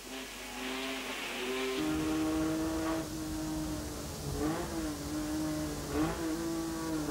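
A 1990 race car engine revs high and climbs through the gears on track, pitch rising and dropping with each shift, loud and continuous.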